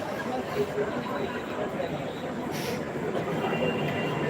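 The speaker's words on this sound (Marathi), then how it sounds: "रेल्वे स्टेशनवर आहे ताई घरी चाललो आहे" Low rumbling rail noise at a railway station, a steady rolling roar of a train with faint chatter in the background, while someone talks over it on his way home.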